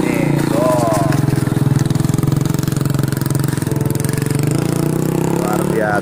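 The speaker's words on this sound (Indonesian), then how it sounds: "Biasa ya, cuma pakai motor begitu." A Yamaha Aerox motorcycle engine runs steadily close by on a rural village trail in East Luwu, a loud, rapid chugging pulse lasting throughout, with people talking over it.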